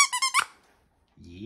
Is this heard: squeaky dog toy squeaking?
yes